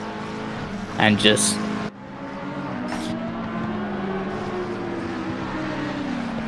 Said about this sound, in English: it's just the metallic sound of the exhaust